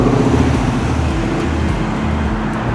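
A fire and rescue truck rolls past on a road, its broad engine and tire rumble loud and steady throughout with no talking.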